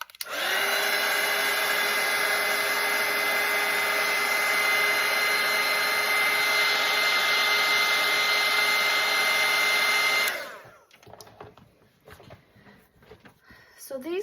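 A hair dryer runs steadily and loudly for about ten seconds to dry fresh paint on a daffodil painting, then cuts off abruptly, leaving quiet handling noises.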